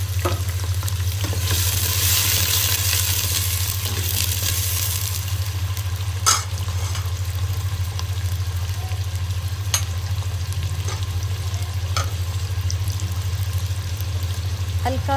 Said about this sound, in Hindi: हमने एक डेगची के अंदर हमने पहले ऑयल डाला है, उसी के साथ हमने रफली प्याज है उसको शामिल कर देंगे।